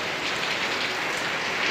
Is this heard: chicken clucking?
no